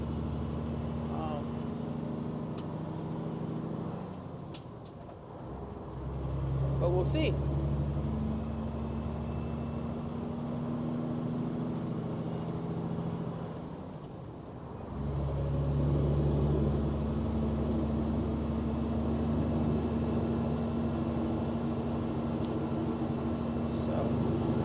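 Loud, constant engine and road drone inside a moving truck cab, with low rumbling and steady hum that dips briefly twice, and someone talking over it.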